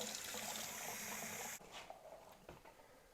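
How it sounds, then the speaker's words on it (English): Running tap water splashes over two cans' worth of beans being rinsed and strained for a slow-cooker chicken and sausage stew, a steady close pour for about a second and a half, then fainter drips and trickles. "Strain them from their liquid and give them a rinse."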